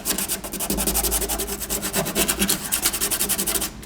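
A small piece of sandpaper is rubbed by hand over the transmission tunnel of a 1969 GTO convertible, making quick, rhythmic back-and-forth scratchy strokes, close and continuous.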